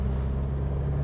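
An Audi S3 sedan engine rumbles low from idle as it begins to accelerate, a quiet, steady car drone with no talking over it.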